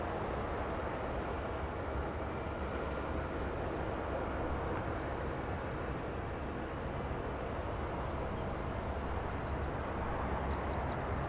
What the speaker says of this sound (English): Wait for takeoff, the SkyWest. A little Embraer E175.